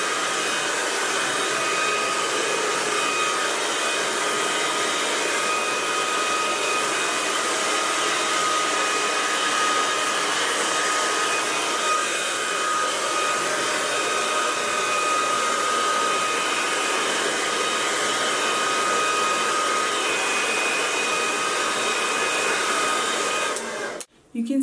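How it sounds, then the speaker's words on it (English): A hair dryer runs on its highest heat and fastest speed to straighten thick, curly hair, a loud, steady whine and rush of air that lasts almost unbroken before cutting off at the end. "I usually use the highest heat setting on this hair dryer and the fastest speed"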